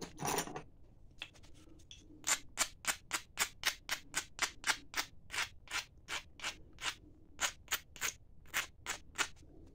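Black butter obsidian flake platforms on a hunting point preform being ground with an abrading tool while flintknapping, giving a close run of evenly spaced, sharp scraping strokes after a brief rustle, with no talking.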